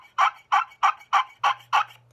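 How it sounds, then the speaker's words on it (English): An old-style bomber turkey call sounds six loud, evenly spaced yelps in quick rhythm, each a sharp raspy burst close to the listener, with no other sound around them. "Another call is this old style bomber. It's just a loud call, and all it's good for is yelping."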